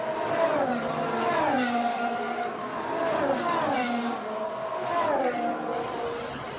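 Formula One cars race past at the Bahrain Grand Prix, their high-pitched engines rising and falling in repeated Doppler sweeps as several cars pass in succession over a few seconds.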